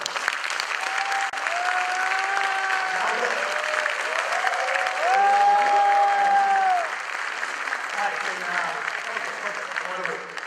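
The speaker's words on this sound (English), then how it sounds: "give the loudest applause you all can for Bhavin Turakhia" A conference audience claps and cheers loudly for about ten seconds, dense steady applause with a sustained crowd roar, while a presenter's voice carries faintly over it.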